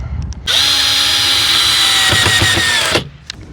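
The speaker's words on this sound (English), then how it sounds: "Oh, the drill's losing battery here." A cordless power drill whirs steadily for about two and a half seconds while driving screws into the wood of a DIY raised garden bed, loud and close, with the motor pitch sagging slightly near the end, then stopping abruptly.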